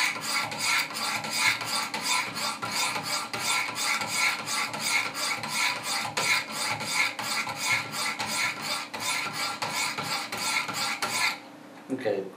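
A Benchmade 940 knife blade is drawn over the stones of a Wicked Edge sharpener in fast, even rasping strokes, dozens in steady rhythm, close and clear, stopping just before the end.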